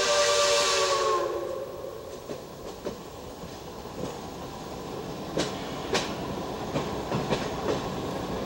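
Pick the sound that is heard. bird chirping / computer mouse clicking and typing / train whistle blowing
train whistle blowing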